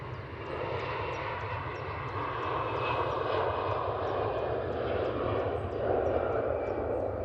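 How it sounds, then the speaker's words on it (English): An Airbus A320-200 on the Gibraltar flight at Manchester Airport gives a loud, continuous jet engine roar with a deep low rumble, swelling gradually across a few seconds. "That's the flight to Gibraltar. It's an A320-200."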